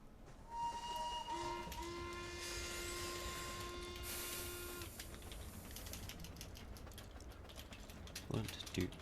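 A train in a railway video game at a quarry rumbles steadily, with sustained horn-like tones for several seconds and clicking rail noise throughout, moderately loud.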